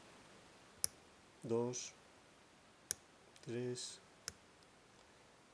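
A Mako 427 lock being picked gives three sharp, isolated clicks spaced a second or two apart, quiet but crisp, with someone speaking briefly between them.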